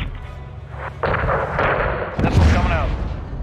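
Missile launch in Call of Duty Modern Warfare II gameplay during a convoy strike, a sudden loud roaring burst with rumbling low end over steady game noise and radio chatter.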